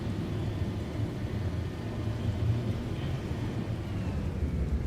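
Thunder and rain in the survival video game The Last Caretaker: a steady, low rumbling wash of storm noise holds at an even level throughout, with no distinct claps.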